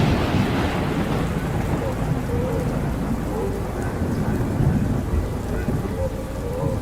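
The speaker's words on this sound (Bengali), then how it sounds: "আবার একটা বাজ পড়ল বিকট শব্দে।" Heavy thunderstorm in a Bengali audio drama: dense, steady rain drums on a surface under a deep, continuous rumble of thunder, loud and close throughout without pause.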